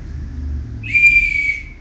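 A shrill whistle is blown once at a street protest, a loud sustained blast lasting about half a second over low traffic rumble.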